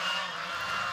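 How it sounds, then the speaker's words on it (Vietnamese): Flock of geese on a farm raised free-range in a pomelo orchard, honking loudly in a continuous overlapping chorus close by. "ông May sẽ cho đàn ngỗng ăn lúc 11 giờ sáng và 4 giờ chiều"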